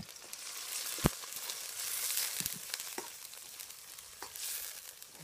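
Soy sauce, wine vinegar and sugar sizzle faintly in a hot pan while being stirred, with a few soft scrapes and clicks over a steady hiss.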